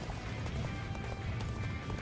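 A horse gallops across the battlefield in Dynasty Warriors: Origins, its rapid hoofbeats drumming steadily but fairly quietly beneath a busy wash of game background noise.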